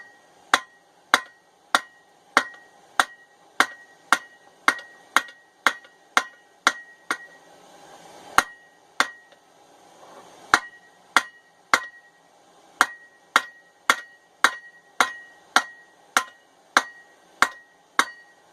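A hammer rings out in evenly spaced, sharp metallic strikes on a hot ball peen hammer head being forged into a top fuller, with a brief pause partway through before the steady rhythm resumes.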